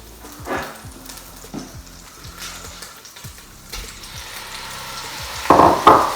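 Minced meat sizzles and crackles in olive oil in a hot pan, a steady close frying hiss with a few louder bursts as it is stirred toward the end.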